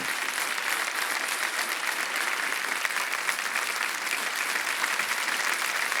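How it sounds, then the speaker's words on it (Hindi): A studio audience on a TV quiz show applauds a contestant who has just won prize money, an even, sustained wall of clapping from a large crowd with no break. "तालियां बज जाएं इनके लिए।"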